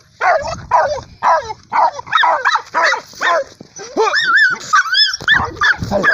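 Several dogs bark and yip in quick, excited bursts close by while a teiú lizard is released in the Brazilian scrub; people shout briefly over the barking, with some higher whining yelps near the end.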